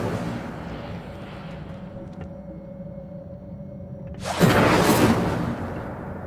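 A fiery whoosh from the Incendio fire spell in Hogwarts Legacy flares up loud and broadband near the end, breaking over a steady low game ambience and lasting about two seconds before fading.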